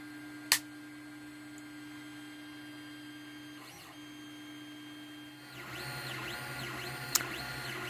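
A laser engraver runs through a long workshop job with a steady low hum and faint whine, and a louder buzzing, warbling motor pattern comes in over the last few seconds, along with a couple of sharp clicks.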